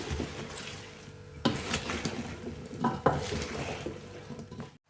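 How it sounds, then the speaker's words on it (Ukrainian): A spoon scrapes and clinks through a bowl of cucumber salad dressed with garlic and mustard, with a few louder knocks against the dish in an otherwise steady, close-up stirring rhythm. "Все добре перемішуємо і залишаємо на 3 години."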